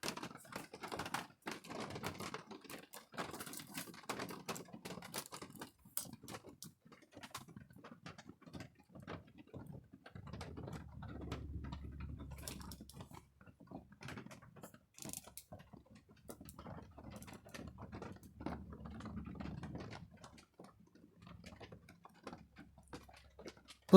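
Rain patters on an old tin roof, a dense, irregular ticking and tapping that continues for the whole stretch, soft and steady with faint low rumbles underneath.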